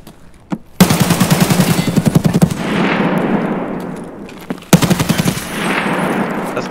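Automatic gunfire in the Escape From Tarkov video game rattles out in two loud, rapid bursts, the first long and fading into echoing reverberation, the second starting abruptly near the end.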